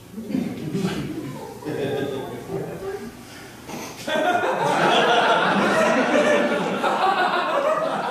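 A comedian on stage at a comedy club makes loud, honking, barking calls imitating sea lions, with chuckling mixed in, the barking growing louder and more continuous in the second half.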